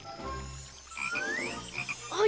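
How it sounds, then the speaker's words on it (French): Cartoon frog croaking, a bouncy animated flying frog giving a few rising, warbling croaks and chirps, close and clear over a quiet background. "Une grenouille volante."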